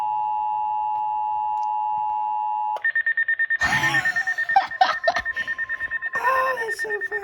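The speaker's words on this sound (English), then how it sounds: "it does the 1050 hertz tone, so you don't hear it go through the index" A steady 1050 Hz Emergency Alert System tone sounds alone from a weather radio for nearly three seconds, then shifts to a higher steady tone while people laugh and talk excitedly over it.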